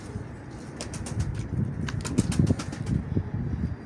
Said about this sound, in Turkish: Evet arkadaşlar kuşlarımızı kaldırdık.